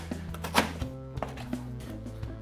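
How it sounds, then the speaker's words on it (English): Fresh lemongrass chopped into small pieces on a cutting board for a gin cocktail, a few close, irregular knife strikes with one louder chop, over a steady background hum. "All right, we got our lemongrass cut up here."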